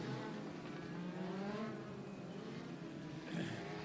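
INEX Legends race cars on a parade lap at Maquoketa Speedway: a faint, distant, steady buzz of small engines droning together as the field circles slowly.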